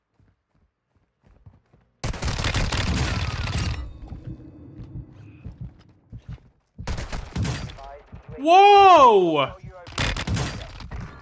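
A sustained burst of video game gunfire, fired through a building, fills a couple of seconds, followed by shorter impacts and shots. A player exclaims and talks over them.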